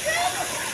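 A small splash of water poured into a cooking pot of a budget vegetable dish, a short steady hiss of liquid lasting under a second, close and fairly loud.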